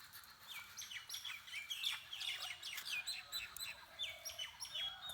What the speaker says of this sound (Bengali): তবে অনেক ধরনের পাখির এই যে